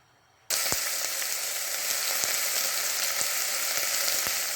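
Onions, garlic, peppers and tomato hit a hot pot and burst into a loud, steady sizzle of frying, with a few soft knocks of stirring underneath.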